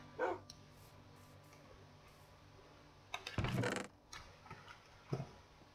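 Dog barking in the Minecraft video game, a few short separate barks spread across a quiet stretch, with louder clattering bursts in the middle.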